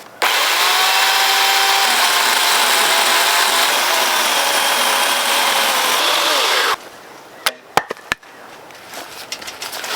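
A chainsaw cuts a 9-inch tenon on a timber frame pergola beam, roaring loud and steady for several seconds before stopping, followed by scattered knocks and clatter.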